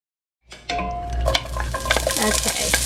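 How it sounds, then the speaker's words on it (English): Chopped onions hit a hot pot at the start of a chili bake, then sizzle and crackle steadily while a utensil scrapes and stirs them. The frying sounds close and moderately loud, and no one talks. "Okay, I'm going to saute the onions in here first."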